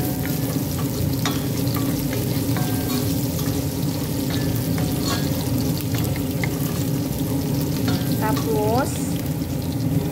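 Cinnamon stick and bay leaves fry in a hot pan for biryani, with a loud, continuous oily sizzle, occasional stirring clinks and a brief squeak near the end.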